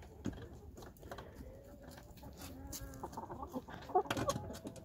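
A brooding hen sitting on her nest clucks in soft, irregular bursts, with a few louder, sharper clucks near the end, all against a quiet outdoor background.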